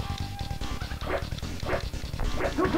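Repeated dog barks and yips from an arcade game running under emulation, several sharp bursts over continuous game music and effects, loud and close in the mix.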